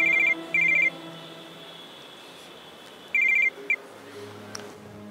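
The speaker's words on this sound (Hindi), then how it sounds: "अरे ये फोन किसका आ गया?" A telephone rings in short electronic double bursts, two rings near the start and another pair around three seconds in, fairly clear over a quiet room hum with no talk.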